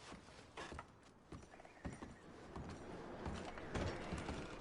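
Horses in Red Dead Redemption 2 shuffling and clip-clopping nearby, with scattered hoof knocks, a soft whinny and light tack or mechanism clatter, fairly quiet with no talk.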